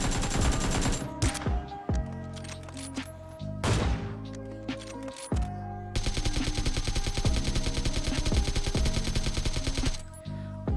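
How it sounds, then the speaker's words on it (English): Rapid bursts of gunfire from the PUBG video game, with single shots and sustained automatic volleys that stop and restart, loud and close with ringing tails. "All guns in PUBG are based on real guns and thus give you a more satisfying experience when you fire them"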